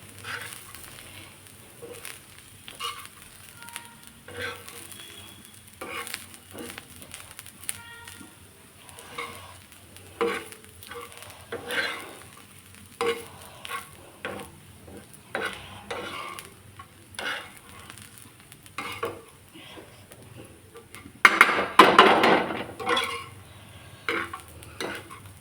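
Spice-paste ingredients for mutton masala are dry-roasted in a pan and stirred repeatedly, giving rhythmic scrapes and rattles over a faint crackle. A brief, louder burst of sizzle rises near the end.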